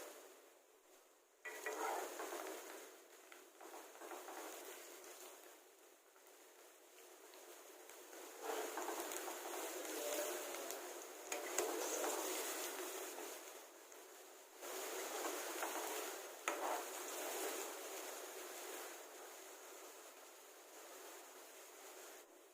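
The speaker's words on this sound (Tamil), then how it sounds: "ஸ்டவ் வந்து மீடியம் ஃப்ளேம்லேயே வச்சு ஃப்ரை பண்ணிக்கோங்க." Onion pakoda fry in oil over a medium flame, giving a faint, steady bubbling sizzle that swells and fades across the clip, with occasional scraping in the pan.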